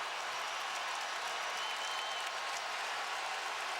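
Kentucky home crowd at a college basketball game against Tennessee cheering and applauding, a steady dense wash of clapping and crowd noise heard at a distance, fairly even in level throughout.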